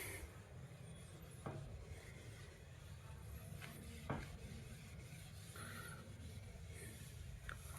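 Faint rubbing of an eraser or cloth across a classroom board, wiping off writing: a soft, steady scrubbing with a few small knocks, no voices.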